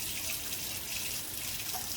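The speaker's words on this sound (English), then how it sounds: "sorry I keep turning the water on" A kitchen water tap runs in a steady, close, broadband rush, unbroken and fairly quiet, with no voices over it.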